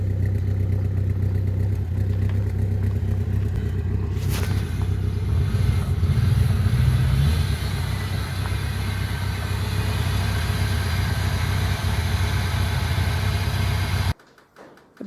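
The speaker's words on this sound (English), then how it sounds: "here she is, coming to work in a supercharged V8 Hilux" A supercharged V8 Toyota Hilux engine idles with a steady, low rumbling drone that holds evenly for most of the stretch, swells slightly midway, then cuts off abruptly near the end.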